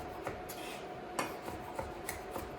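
A knife chops mushrooms on a board for cream of mushroom soup: faint, irregular clicks and taps spaced about every quarter to half second, close and quiet, with no voices.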